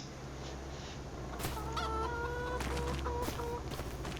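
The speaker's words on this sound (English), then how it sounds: "And then our chickens." Several chickens in Farming Simulator 25 cluck in short, choppy bursts over a steady low hum, fairly close and moderately loud.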